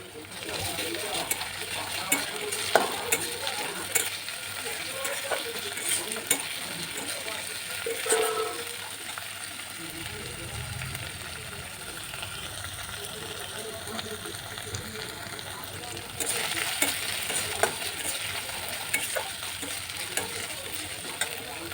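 Ginger-garlic paste fries with browned onions in a pan, a soft steady sizzle with occasional stirring scrapes and clinks, fairly quiet, swelling slightly louder near the end.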